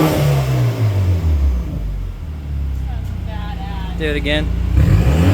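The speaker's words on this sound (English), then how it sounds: "this is just with the cutout. Give it a rev." A BMW's engine revs with the exhaust cutout valve open and the rear pipe not fitted, a loud continuous rising and falling drone over about five seconds, with a person speaking briefly over it.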